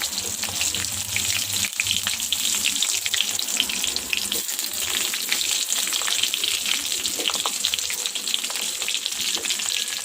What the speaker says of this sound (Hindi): अब हम इसमें हमारे जो ब्रिंजल्स है उसे छोड़ देंगे। आपको आवाज़ भी आ रही होगी